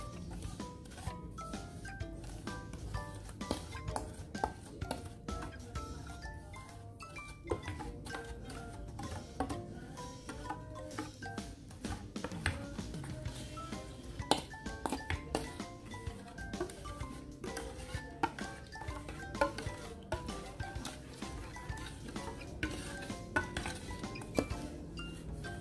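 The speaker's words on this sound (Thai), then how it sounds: "คนให้น้ำตาลละลายก่อนนะคะ" Sugar stirred in a bowl until it dissolves, a faint continuous scraping and clinking of a spoon against the bowl with light ticking taps throughout, no talk.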